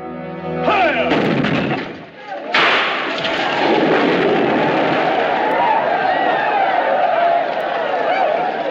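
A loud cannon blast booms out, followed by a long rolling rumble and crowd noise that fills the rest of the clip.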